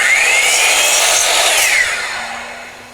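A power saw cuts through a wooden mirror frame board in one loud, close pass, a high whining rasp that rises and then fades away over about three seconds, with no talking.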